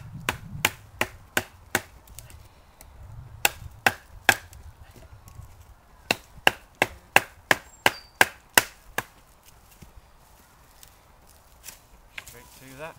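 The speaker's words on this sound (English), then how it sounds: "I've just got a branch here, and I'm just going to try and chop through it." A Ka-Bar knife chops through a wooden branch in a rapid series of sharp, woody thwacks, some in quick bursts, close and loud, with brief gaps between runs of strikes.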